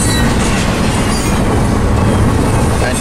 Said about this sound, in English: This is a pure international train, I can actually tell.